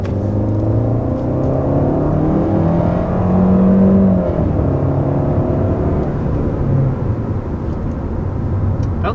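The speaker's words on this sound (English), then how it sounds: "That was our first acceleration up to about 50 miles an hour in this K5." A 2021 Kia K5 with its standard engine accelerating to about 50 mph, heard as a steady engine drone and road rumble from inside the car, swelling slightly partway through, continuous and fairly loud.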